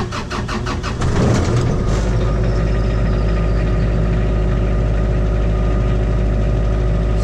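A backup generator engine at a BTS telecom station cranks with rapid chugging, catches, and settles into a loud, steady running drone close by.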